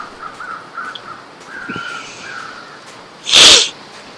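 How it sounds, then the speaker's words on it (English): A person with a cold sneezes once, sharp and loud, during Mystery Lake gameplay in The Long Dark, over quiet wilderness ambience with faint tonal bird-like calls and small scattered sounds before it. "I apologize for coughing and sneezing sometimes"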